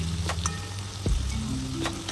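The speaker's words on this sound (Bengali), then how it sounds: "বড়াগুলোকে ভালো করে উল্টে নিয়েছি যাতে অপর পিঠটা ভালো করে ভাজা হয়ে যায়" Gadal leaf fritters sizzle softly in hot oil as they are turned, with a gentle steady crackle and a few brief clinks from the pan.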